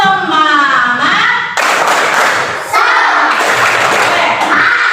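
A group of participants in a teacher coaching session doing the 'tepuk semangat' spirit-clap chant, with voices chanting together over rhythmic hand claps and thumps in a loud, close, energetic burst.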